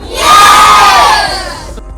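A football team's players shout together in one loud, sustained collective cry on the count of three, close and forceful, fading out over about a second and a half.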